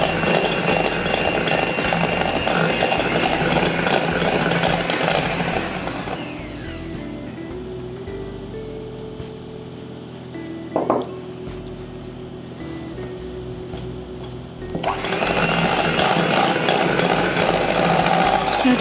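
An electric hand mixer runs at low speed through choux pastry dough as eggs are beaten in, a steady whirring drone that drops quieter for several seconds midway and then returns at full strength.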